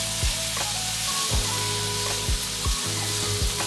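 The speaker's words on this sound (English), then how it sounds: "Okay, now I'll fry it well." Chopped tomato with salt sizzles steadily in a hot pan, a continuous close frying hiss broken by several low thuds and scrapes of stirring, with no talk.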